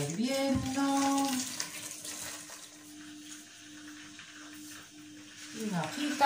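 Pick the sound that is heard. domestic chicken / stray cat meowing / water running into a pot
water running into a pot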